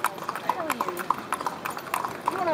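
Horse hooves clip-clop in a quick, steady trot on a hard surface in Myanmar, close and clear, with people chatting over the rhythmic clopping throughout.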